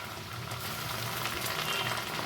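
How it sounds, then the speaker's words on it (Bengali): Chopped tomato and garlic with onion frying in a pan for a Bengali katla fish dish, giving a steady close hiss and crackle of oil without pause. "এখন এই টমেটো আর রসুনটাকেও আমি এক দুই সেকেন্ড একটু ভেজে দিব"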